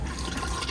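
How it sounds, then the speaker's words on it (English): Fresh water flushing into the toilet bowl of an Elddis Signature CV40 caravan, a close, loud, continuous gushing rush with no talking. "So put a little bit of water in first before you use the toilet."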